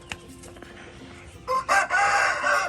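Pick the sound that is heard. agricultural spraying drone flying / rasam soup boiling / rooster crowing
rooster crowing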